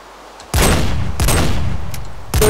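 Video game gunfire, three loud close bursts of rapid shots separated by short gaps, with no talk.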